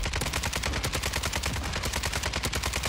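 Rapid automatic gunfire from a nasty gun in a video game, a dense continuous burst of sharp cracks lasting several seconds, loud and close with no talk.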